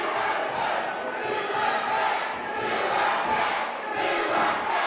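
A large outdoor crowd waits for an arrival at a memorial show, with a continuous roar of voices that swells and ebbs in broad waves, loud and fairly near throughout.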